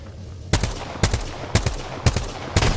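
Automatic weapon fire in the battle royale game Apex Legends, five sharp bursts spaced about half a second apart, loud and close over a low rumbling game background.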